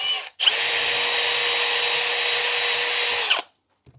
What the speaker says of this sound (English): we're gonna take our drill, just like in the last one, and drill it all the way through